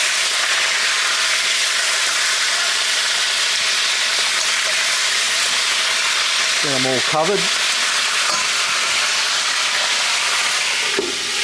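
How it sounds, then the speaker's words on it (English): Mud crabs steaming in a ripping-hot covered pot give a steady broadband hiss and sizzle throughout, with a brief voice speaking midway and a few clanks of the pot. "Lid on, and we're just going to steam them in there."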